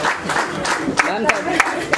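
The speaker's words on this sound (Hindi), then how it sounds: "तालियां बजती रहनी चाहिए।" Guests at a Punjab National Bank retirement ceremony for a chief manager clap in a steady round of applause, with a few sharper claps and people talking over it.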